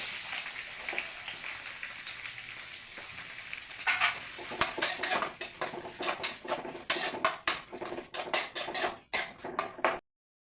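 Onion added to hot oil with whole spices like cinnamon and bay leaf for vegetable biryani, a soft sizzle that jumps into loud crackling around four seconds, punctuated by a rapid series of sharp spoon-on-pan scrapes and clinks, close and no voices.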